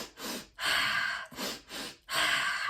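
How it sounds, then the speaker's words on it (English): Forceful, rapid breaths pushed in and out through the nose in the breath of fire (dragon's breath) exercise during a ceremony, heard as loud, close rhythmic bursts of airy rushing with short pauses between them. "And that is the breath of fire, or the dragon's breath."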